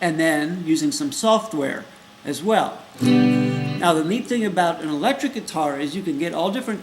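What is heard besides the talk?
No distinct noise like a dog, phone or traffic.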